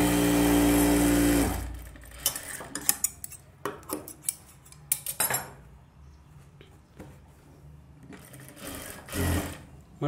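Sewing machine stitching a Katori blouse, starting with a loud continuous whir of stitching that cuts off after about a second and a half, followed by scattered clinks, handling knocks and a short second burst of machine running.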